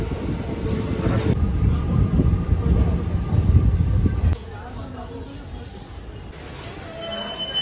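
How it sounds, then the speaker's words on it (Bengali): The 12311 Netaji Express pulls into Bardhaman station with a loud, steady rumble of rolling coaches. The rumble drops abruptly to a quieter hum as the train slows. "আমাদের ট্রেন এসে পৌঁছালো বর্ধমান স্টেশনে"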